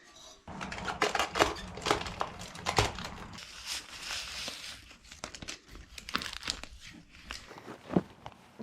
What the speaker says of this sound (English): I will tape it.